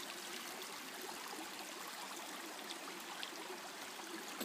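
A mountain stream on the Oodaki River, a tributary of the Akigawa, rushes in a steady broadband wash of flowing water, close and continuous with no voices.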